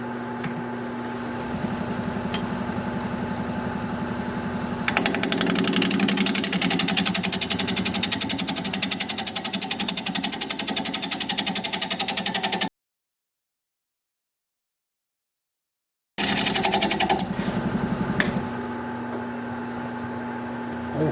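Wood lathe spinning at 680 RPM while a 5/8 inch bowl gouge cuts a wooden bowl, a steady mechanical hum that grows louder and rougher as the tool bites, then stops briefly before the cutting resumes.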